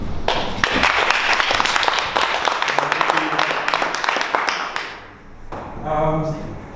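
An audience claps for a speaker introduced before a talk on decentralization. The dense, steady clapping runs for several seconds, then fades as a voice begins.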